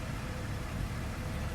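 A BMW car engine idles smoothly with no smoke, a close, steady low rumble holding an even level for the short stretch.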